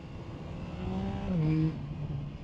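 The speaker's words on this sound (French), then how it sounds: "on a ces grilles qui permettent de faire remonter le son de la boîte à air" Yamaha MT-09 Y-AMT motorcycle ridden on the road, its airbox intake giving a low engine drone that rises in pitch, swells briefly louder, then settles back, heard close over wind noise.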